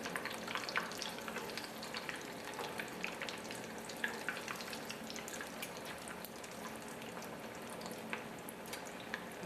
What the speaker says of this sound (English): they will probably need about couple minutes frying per side